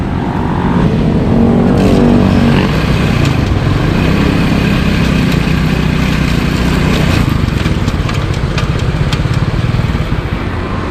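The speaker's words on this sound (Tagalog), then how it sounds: "i-start na yung makina tapos ilagay mo sa 4th gear titingnan natin kung kakalas" A motorcycle engine runs in fourth gear after starting, loud and close, with a steady, continuous drone from start to finish and no voices over it.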